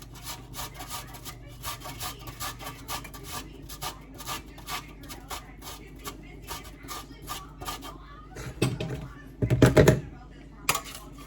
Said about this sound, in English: I'm gonna grate a little ginger